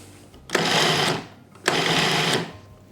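Food processor pulsing almonds and parmesan cheese for pesto, two loud close whirring bursts of about half a second each with brief quiet gaps between them.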